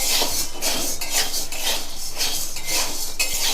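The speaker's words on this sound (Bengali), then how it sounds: "আমি সাবগুলো নাড়াচাড়া করছি এইটা দিয়ে" Sago pearls heated in a kadai and stirred with a utensil, a dense continuous scraping and rattling of grains against the metal pan, rhythmic and close.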